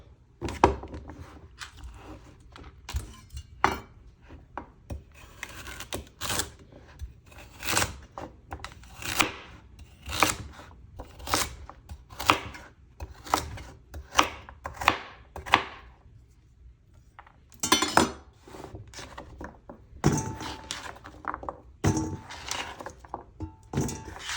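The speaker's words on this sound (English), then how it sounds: "I should chop it up a little smaller" A knife chops carrots on a cutting board in steady bursts of crisp, close thunks, with short pauses between runs; carrots are being prepared for carrot punch, a Jamaican drink.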